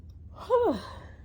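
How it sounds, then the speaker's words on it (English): A single short, breathy vocal exhale with a falling pitch, like a brief yawn or sigh, quiet and close. "Excuse my yawns."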